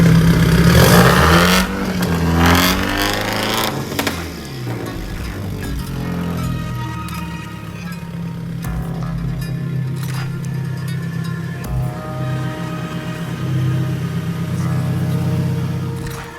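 Subaru race car built for the Super Taikyu endurance series, engine revving close up in a garage or pit setting: a loud initial blip that settles into a steady idle with a brief rise toward the end.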